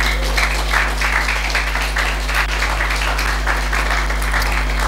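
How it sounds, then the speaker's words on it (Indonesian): A crowd applauds steadily, many hands clapping in a dense, sustained patter over a low constant hum. "Beri tepuk tangan buat Tuhan."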